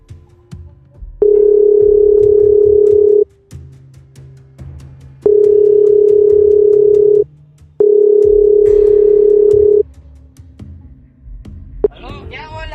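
A telephone line gives a steady low dial tone in three long stretches of about two seconds each, separated by short gaps, loud and close over quiet background noise while a call is being placed.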